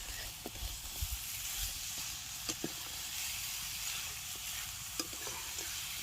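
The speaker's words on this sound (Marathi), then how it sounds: "चांगलं एकसारखं हलवून थोडंसं त्यात आपण अळणी रस्सा घालून वापरून घेणार आहोत" Gavran chicken curry being stirred in a pan, a steady frying sizzle with scattered scraping spoon clicks throughout, close and moderately loud, no talking.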